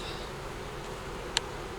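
Bees in a double-deep five-frame hive holding honey, pollen and larvae hum in a steady, moderate buzz that continues without a break, with one brief click partway through.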